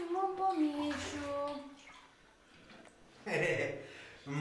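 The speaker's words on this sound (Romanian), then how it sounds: "care se bălăcește în cadă. Apă cloșcotită, doamnă, deci apă termală, nu orice apă" A child splashes in a bathtub of bubbling thermal water at a spa resort, steady sloshing and gurgling close by under tonal voices and a child's vocal sounds.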